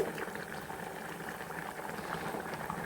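Pomfret fish curry at a rolling boil in a pot, a dense steady bubbling and gurgling heard close up, unbroken from start to finish.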